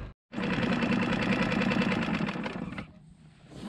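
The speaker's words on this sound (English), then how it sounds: "Kill the engine" A small skiff's outboard engine runs at a steady, buzzing idle in a mangrove bay at Magdalena Bay, Baja, Mexico, then cuts off abruptly, leaving quiet water ambience.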